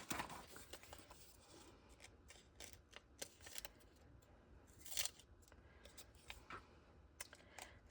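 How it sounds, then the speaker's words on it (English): Scissors cut out pieces of paper nearby, giving a quiet, irregular run of sharp snips and soft rustles with no talking. "Let me just cut some of these out"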